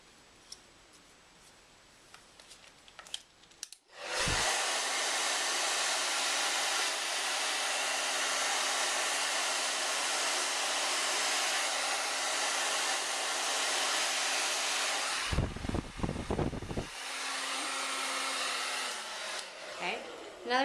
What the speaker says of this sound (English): you want to position the blow dryer so it blows away from the hair, so it blows down the hair shaft.